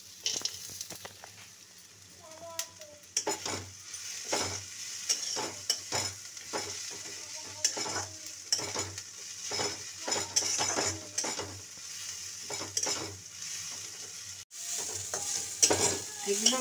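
Peanuts fry and sizzle in a pan while a utensil stirs them in a steady, repeated scraping rhythm, close and moderately quiet, with no talk.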